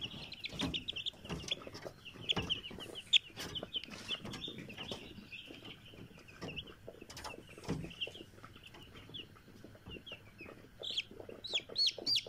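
Chicks gathered under a cloth for eye-drop vaccination peep and cluck continuously in a busy, overlapping chorus, with occasional brief wing flutters and rustling, close by and without talk.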